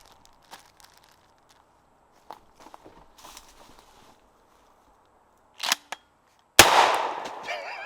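A single sharp, loud gunshot from a firearm with a ported muzzle brake cracks out after some scattered quiet shuffling and handling sounds, followed by a brief decaying blast.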